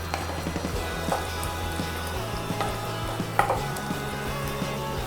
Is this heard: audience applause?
no